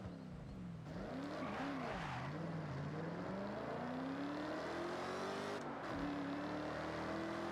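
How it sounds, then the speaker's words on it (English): A car's supercharger in Forza Horizon 6 whines steadily and rises in pitch over a continuous engine roar, with a brief dip as the driver shifts before the whine climbs again. "let's see if the supercharger is still ridiculously loud"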